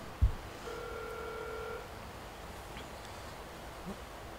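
A telephone call being placed: a short click followed by a steady electronic tone lasting about a second, faint and alone against a quiet background.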